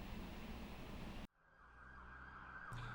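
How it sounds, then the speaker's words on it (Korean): Police car sirens on a North Carolina university campus respond to a shooting, a steady loud wail that cuts off abruptly midway, leaving quieter traffic and a fainter siren tone rising toward the end. "여러 대의 경찰차가 노스캐롤라이나 대학으로 빠르게 출동합니다."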